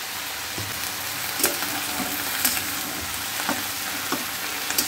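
Chopped tomato fries in a pan with a steady dense sizzle, punctuated by a few scattered clicks and taps of a utensil over five seconds, fairly loud and continuous, with nobody speaking.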